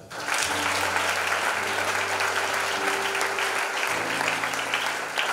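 Church congregation applauding together in steady, sustained clapping that fills the room, loud and continuous throughout with a faint murmur of voices and some tonal hum underneath.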